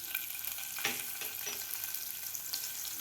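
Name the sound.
cumin, mustard seeds, asafoetida and curry leaves frying in oil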